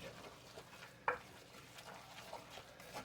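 Chicken and dressing ingredients with onions being stirred and mixed in a skillet, a steady soft scraping under faint sizzle, with one sharp utensil clink against the pan near the start.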